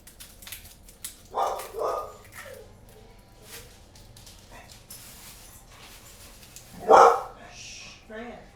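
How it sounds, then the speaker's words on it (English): Several dogs bark in loud, irregular bursts outdoors while lawn mowers run nearby during home cooking, with a voice talking underneath and a strong barking flurry near the end. "Can you guys mostly hear me over the dogs right now?"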